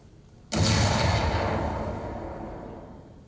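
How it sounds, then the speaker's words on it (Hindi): After a quiet half-second, a single loud explosion booms out, its deep rumble slowly fading over the next few seconds. "ये धमाका सुनाई दिया"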